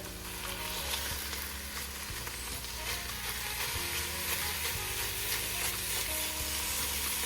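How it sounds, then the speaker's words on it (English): A pound of ground beef sizzles loudly in a pan for baked beans, with a steady dense crackle and rhythmic scraping as it is stirred and broken up throughout. "Then I'm gonna go in with a pound of ground beef"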